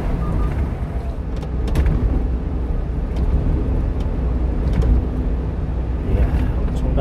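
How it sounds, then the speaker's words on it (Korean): Fast cars stream along the Olympic-daero expressway in Seoul between Jamsil Railway Bridge and Olympic Bridge, a steady, loud roar of tyres and engines with passing swells. "차들이 엄청 빨리 달립니다."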